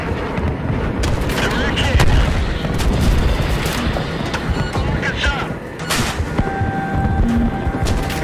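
Gunfire and heavy explosions from the video game Battlefield 3 come as a dense, continuous barrage of booming shots. A player talks over the din.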